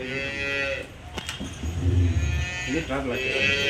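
A red-and-white Jersey dairy cow on a Punganur dairy farm moos loudly and nearby in a long drawn-out low call, with a voice briefly speaking around it.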